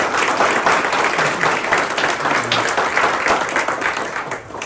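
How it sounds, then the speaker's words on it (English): An audience at a university dedication ceremony for a new campus landmark applauds, dense steady clapping that fills the space at an even level throughout. "Can you give an applause?"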